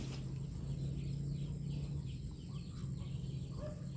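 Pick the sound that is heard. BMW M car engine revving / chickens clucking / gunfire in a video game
chickens clucking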